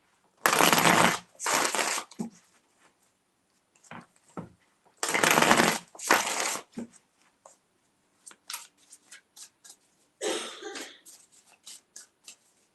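Tarot cards are shuffled in a few separate bursts of brisk riffling and flapping, close and crisp, with short quiet gaps and lighter handling clicks between them.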